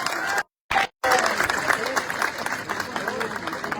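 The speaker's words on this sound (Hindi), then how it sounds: "इतनी तालियां आपने बजाई, इतनी तालियां बजाई" A crowd at an outdoor political rally in Jalandhar claps and cheers in a sustained roar of applause, briefly cut off twice near the start, then continuing loudly under a speaker's amplified voice.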